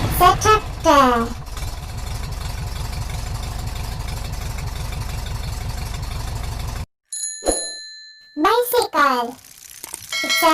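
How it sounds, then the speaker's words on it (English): A tractor engine idles with a steady low, rhythmic chugging for several seconds, framed by a voice speaking before and after and a brief ringing tone. "Tractor. It's a tractor."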